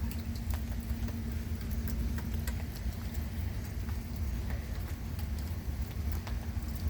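Steady rain patters outside in a dense, even wash with scattered sharp drips, moderately loud and continuous, with a low hum underneath and no voices.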